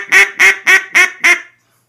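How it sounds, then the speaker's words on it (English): Five quick, evenly spaced nasal quacks come from a handmade single-reed duck call, blown loud and close, then cut off into silence. "And this is a single reed duck call that I made."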